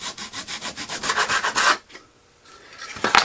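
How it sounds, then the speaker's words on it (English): Hand-cutting a piece of wood while building the rudder of a Tiger Moth being converted to a Stampe SV4 biplane: about a dozen quick, rhythmic rasping saw strokes up close, then a near-silent pause and a few faint scrapes. "I want to cut this piece off here."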